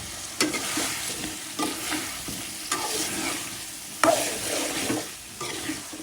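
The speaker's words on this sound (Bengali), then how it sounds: "দিয়ে দিলাম আলুটা কষিয়ে নিব" New potatoes sautéing in spiced oil in a pan for an egg and potato curry give a strong, steady close sizzle, punctuated by a few sharp stirring scrapes, with no talk.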